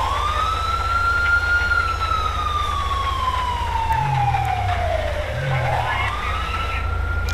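A police car siren from GTA V with the LSPDFR mod wails continuously in long rising and falling sweeps over a low engine rumble, with brief lower honking or yelp bursts partway through and no speech.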